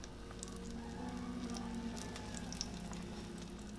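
A breakfast omelette of beaten egg fries in a pan, giving a steady, close sizzle and soft patter that holds evenly throughout with no voices.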